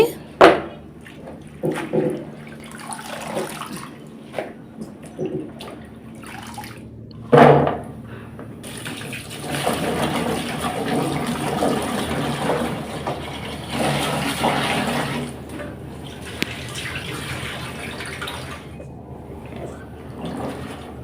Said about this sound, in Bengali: এদিক দিয়ে শাকগুলো ধুয়ে নিচ্ছি